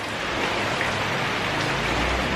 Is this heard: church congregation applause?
no